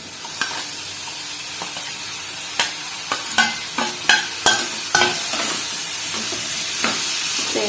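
Potatoes stir-frying in a pan over high flame: a steady, close sizzle broken by a run of sharp spatula scrapes and knocks against the pan.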